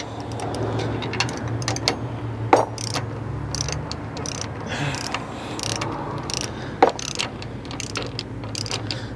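A ratchet turns a 19 mm socket during a rear disc brake conversion on a GMT400 Chevy/GMC dually truck: quick ratcheting clicks with a couple of sharper metallic clanks over a low shop hum.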